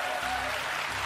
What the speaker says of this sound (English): you were not bullied or tricked into applauding